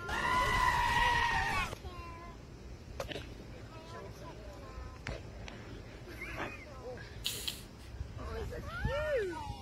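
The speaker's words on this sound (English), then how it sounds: "The timing of that ghost scream." A piercing ghost scream from a Twitch stream, loud and shrill for about two seconds at the start, followed by quieter scattered sounds and people talking.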